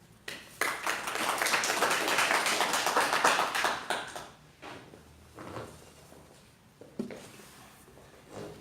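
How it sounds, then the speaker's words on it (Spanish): A Bible study group claps, a burst of fairly close applause lasting a few seconds, then trailing off into a few scattered claps and knocks. "y que el aplauso sea para él"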